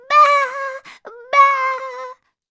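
Sheep in a flock give a few wavering bleats, two long cries separated by short calls, close and clear against silence.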